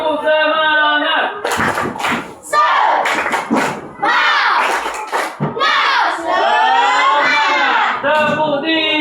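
A class of schoolchildren shout a spirited chant with bursts of rhythmic hand clapping, loud and near, the claps falling in quick clusters between the chanted lines while an adult voice leads.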